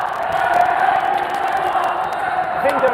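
A crowd cheers at an esports tournament, the FIFAe Club World Cup 2023 group stage, a steady roar of voices with whoops throughout and commentary talk over it.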